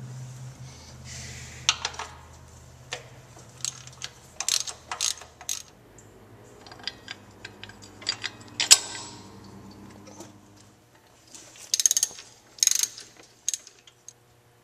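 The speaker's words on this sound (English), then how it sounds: "It's held on with three 15 millimeter bolts." A hand ratchet works loose 15 mm bolts on a Vortec LS V8 serpentine belt tensioner during a water pump replacement, giving quiet bursts of clicking and mechanical creaks spaced irregularly, with soft pauses between.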